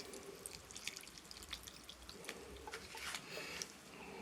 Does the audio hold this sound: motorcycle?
no